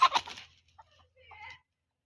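A rooster in a chicken coop gives a short, low clucking call at close range. A quieter, fainter cluck follows a moment later, and the rest is brief silence.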